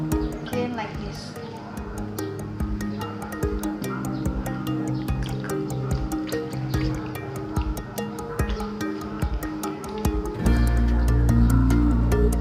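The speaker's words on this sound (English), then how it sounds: "Then wash the tubers until it's clean, like this one." Tubers are scrubbed by hand in water, giving close drips, sloshes and splashy squishes throughout, with a heavier surge of water near the end.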